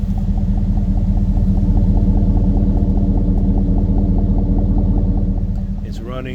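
A GM L92 V8 in a Yukon/Tahoe-type truck idles at a steady, high-ish rumble, close and loud throughout, with the pulsing engine note continuing alone until a brief higher squeal near the end.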